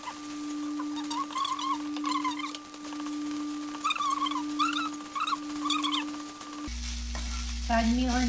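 Fried rice is stirred and fried in a pan with a continuous close sizzle and light scraping, while repeated high, wavering cries that sound like a cat and a steady hum carry over the top.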